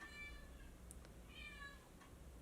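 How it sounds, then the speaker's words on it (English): A new kitten meows twice, short high cries a moment apart, faint against a quiet indoor background. "Our new kitten is screaming at me."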